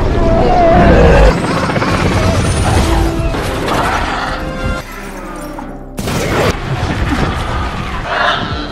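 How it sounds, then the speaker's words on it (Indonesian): A helicopter crashes down in a chaotic film scene: loud roaring, smashing and rumbling debris, with a sharp break partway through, mixed with voices. "sampai menabrak helikopter Mas Rani hingga terjatuh"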